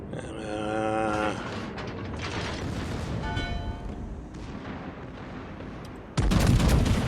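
Secondary guns firing in the naval battle game World of Warships, with a dense series of rapid booming shots, tonal game effects layered over them, and a heavy loud blast near the end.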